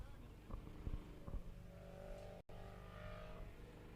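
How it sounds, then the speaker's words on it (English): A Proton Compact rally car runs at night in a rally stage event while burning a lot of oil. Its engine revs and drones faintly at a distance, rising in short bursts before settling into a steady hum. "the Proton Compact does not sound like a well car"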